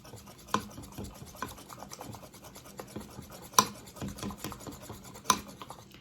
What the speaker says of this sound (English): Get everything stirred up and incorporated really good.